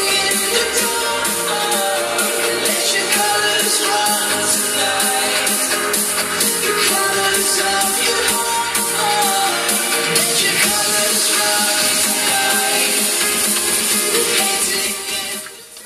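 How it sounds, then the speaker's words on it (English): Dense, loud remix transition with rapid snare fills and rolls driving over full electronic production, staying at a steady high level before easing off at the very end. "So there's the transition, with snare fills and so on."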